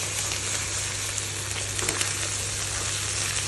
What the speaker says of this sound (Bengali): আমি একদম এটা বেশিক্ষণ ফ্রাই হতে দেবো না। আমি দিয়ে দিলাম ডিম